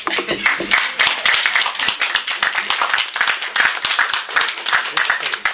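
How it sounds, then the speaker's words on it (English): Attendees at a meeting clap for a birthday, a lively burst of many hands with sharp, uneven claps close by, sustained at a steady level throughout with some voices mixed in. "I think we should clap for your birthday."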